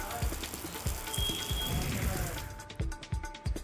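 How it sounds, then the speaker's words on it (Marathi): Heavy unseasonal rain pours down over Barshi town and the Pangaon area, a dense, steady patter of drops striking surfaces with scattered louder splashes throughout, no voices. "बार्शी शहर आणि पानगाव परिसरात मुसळधार पावसानं हजेरी लावली"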